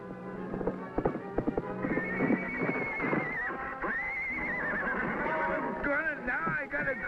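A horse neighs and whinnies shrilly over the sound of clip-clopping hooves, close and agitated, with someone shouting at the same time.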